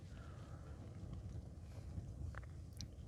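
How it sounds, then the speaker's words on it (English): Wind gusts against a tent pitched on the edge of a clifftop on Caer Caradoc in Shropshire, a low, steady, muffled rumble of buffeting air that stays fairly quiet throughout, with no voices. "Wind's just picked up now."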